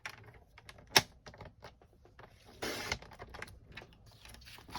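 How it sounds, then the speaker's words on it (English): Scissors cut through folded paper panels along a crease line for a swaps journal, making close, quiet crisp snips and paper rustling, with one sharp click and a longer rasping cut partway through. "you can again take both pieces and just cut them following that same crease line"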